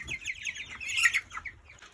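Broiler chickens at a newly introduced feeder, giving soft high chirps and cheeps in a quick irregular scatter, close and without talking.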